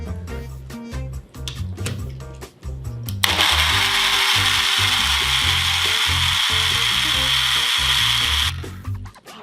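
A countertop blender whirs loudly at high speed for about five seconds, blending breast milk, preceded by knocking and handling clatter as the lid is secured.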